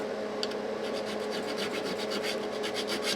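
Frets on a Japanese-made Fender Stratocaster being sanded with 300 grit paper: a close, dry, rhythmic rasping of repeated back-and-forth strokes, alone and at an even loudness.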